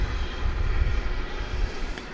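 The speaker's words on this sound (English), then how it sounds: "an Airbus A321 is lining up to take off now on 18 left" Low, rumbling engine noise of an Airbus A321 lining up for takeoff on runway 18L at DFW at night, a steady distant roar dominated by deep bass that swells slightly mid-way.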